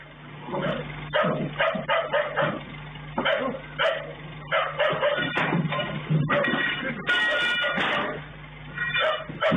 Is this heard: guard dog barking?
yes